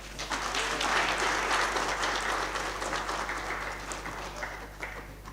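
Applause from a lecture audience after a deputy minister's speech, a broad, even wash of many hands clapping that swells early then gradually thins and fades, with a low steady hum beneath.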